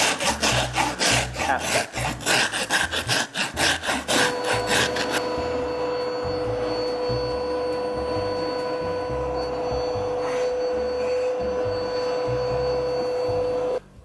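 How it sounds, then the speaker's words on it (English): Hand rasp filing carved plant foam, with quick rough scraping strokes at first, then stopping, leaving a steady hum with a faint tone under it. "I'm using a rasp to do the more fine tuning"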